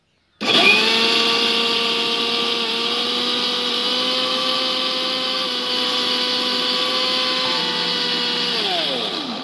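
A mixer grinder whirs loudly and steadily for about nine seconds, grinding soaked moong dal into a smooth paste; its motor tone holds steady, then drops in pitch near the end as it winds down.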